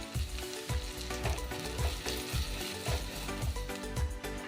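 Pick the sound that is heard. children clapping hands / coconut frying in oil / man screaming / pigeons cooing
coconut frying in oil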